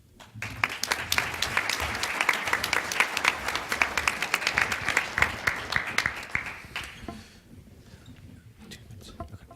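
A symposium audience gives a maritime leadership panel a sustained round of applause lasting about seven seconds, dense and steady clapping that then thins out into scattered claps and quiet room noise.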